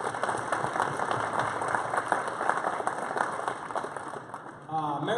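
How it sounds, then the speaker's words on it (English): An audience at a county school presentation event gives a round of applause, dense clapping throughout that fades out near the end as a voice begins speaking. "Let's give them a round of applause."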